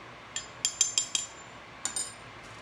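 A metal spoon stirs bouillon into 3/4 cup of water, giving a series of light, sharp clinks against the container, several quick taps close together and then a few more, close and clear over a quiet background.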